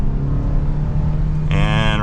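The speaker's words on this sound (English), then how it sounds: "So setting off now in the Hybrid Sonata full throttle sport mode" A Hyundai Sonata Hybrid pulls away at full throttle in sport mode, its steady low drone rising into a louder whine with clear engine harmonics late in the clip.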